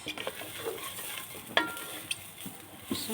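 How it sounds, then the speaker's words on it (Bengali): Gobindobhog rice and whole spices, including cardamom, frying in ghee for tal payesh. A soft, steady sizzle runs throughout with occasional stirring clinks and scrapes, close and fairly quiet. "ভেজে নিচ্ছি আমি এটা ঘি দিয়ে একটু"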